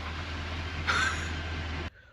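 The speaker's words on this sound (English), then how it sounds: "but the truck is still running." A truck engine's steady low idle drones on after the keys are removed, with a brief higher whine near the middle, then cuts off abruptly at the end.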